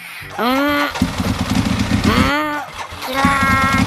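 A motorcycle engine cranks and sputters in short rising bursts, catching briefly then dying away, repeated several times close by as it fails to start midway on a road.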